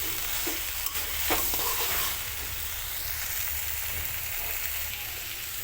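Spices and two green chillies sautéing for a soybean curry, a dense, loud, continuous sizzle with a few quick spoon scrapes in the first seconds.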